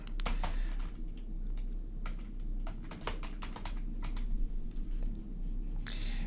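A computer keyboard clatters with steady, close key taps as a search is typed into Google, in quick irregular bursts over a constant low hum, with no one speaking.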